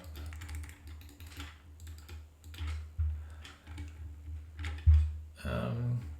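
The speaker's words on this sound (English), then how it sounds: "I'll give you a bit of a typing demo to see sort of how it sounds as well." Soft, irregular clacks of a wireless mechanical keyboard tapping away at a steady typing pace, close up, with a low hum underneath and a few louder keystrokes.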